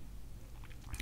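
Pieces of construction chalk are bitten and chewed up close, giving a short, dry crunching texture with a sharper snap near the end.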